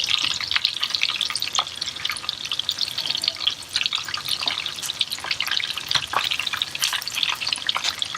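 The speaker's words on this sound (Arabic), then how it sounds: "هنا راح نقليه شوية، يعني تقريبا 10 دقايق ونطلعه" Chicken thighs fry in plenty of oil, a dense, bright crackling sizzle with tiny popping spatters that runs continuously and close.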